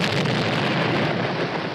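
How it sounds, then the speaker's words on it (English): Cartoon bombs dropped by the Air Force explode in a dense, loud, continuous roaring blast with a rumbling wash that fills the short moment without letup. "Look, now the Air Force is trying bombs."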